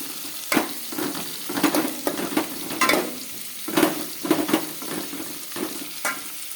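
Mutton kosha cooking in a pan: a steady, close sizzle of frying, broken by repeated scraping and clattering strokes as the pieces are stirred, with no voices.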